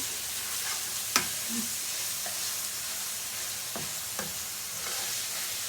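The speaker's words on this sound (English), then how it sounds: "I'm just mixing the mince now. It's slowly going to turn brown." Mince browning in a hot pan with a steady low sizzle while a utensil scrapes and stirs it, giving a few sharp clacks against the pan at irregular moments.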